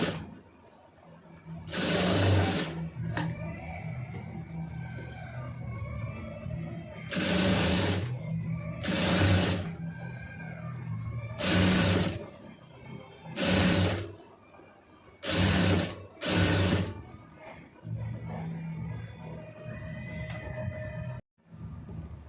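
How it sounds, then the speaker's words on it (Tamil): A sewing machine stitches thread piping along the edge of a sleeve in several separate bursts of steady rapid whirring, close and loud, with short pauses between runs. "பைப்பிங் மேலே ஏறிடாமல் கரெக்டாக நிதானமாக அந்த ஓரத்துலேயே தையல் போட்டுருங்க."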